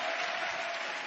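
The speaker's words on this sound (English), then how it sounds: "Listen to the applause." Sustained applause from the audience at President Obama's health care address to a joint session of Congress, a steady wash of clapping filling the whole stretch with no break.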